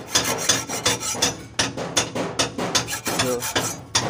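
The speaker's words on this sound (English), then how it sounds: "we concentrate on the top part, each thread, by turning the axle blade a bit bent" A bent axle blade rasps back and forth across the stripped threads of a 48mm truck bolt, giving steady rhythmic filing strokes, close and fairly loud, with no talk.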